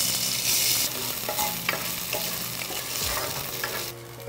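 Tofu frying in hot oil in a pan, alongside garlic, with a steady close sizzle and occasional stirring scrapes, with no talk throughout.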